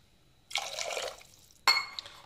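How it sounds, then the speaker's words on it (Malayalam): Water is poured into a cooking masala for fish curry in two splashing bursts, a half-second stream followed by a shorter, sharper pour. "അപ്പോൾ ഇതിലേക്ക് കുറച്ചുകൂടെ നമുക്ക് ആവശ്യത്തിന് വെള്ളം ചേർത്ത് കൊടുക്കാം."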